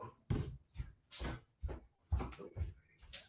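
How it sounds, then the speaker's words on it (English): A door being closed indoors makes a quick series of soft, close thuds and clunks with short gaps between them, fairly quiet against a silent background. "I'm closing the door."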